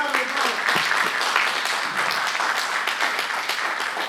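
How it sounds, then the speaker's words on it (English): An audience claps at a live event, a dense, steady wash of applause holding at full loudness for about four seconds with no gaps. "Give a round of applause."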